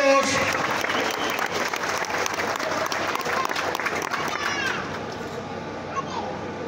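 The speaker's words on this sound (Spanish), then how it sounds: "Aplausos para todos." Audience applause for a band performing at a band showcase in Santa Cruz Tierra Negra, loud and sustained, with crowd noise and children's voices mixed in, fading slightly near the end.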